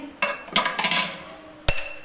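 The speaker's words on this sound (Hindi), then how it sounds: "तो वो मैं ये बर्तन भी यहाँ पे मैंने रख दिए" Metal cooking pots and utensils are set down one after another in a village home, sharp close clanks and clinks in quick succession, then a final louder clank after a short pause.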